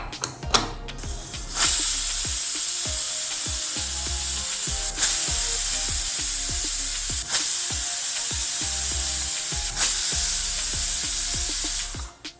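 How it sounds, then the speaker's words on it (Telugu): A pressure cooker on the stove, cooking rice with milk for curd rice, lets out a loud, steady hissing whistle for about ten seconds, with a repeated rattling tick underneath until it cuts off. "చూసారు కదా ఫోర్ విజిల్స్ వరకు అయ్యాయి కదా"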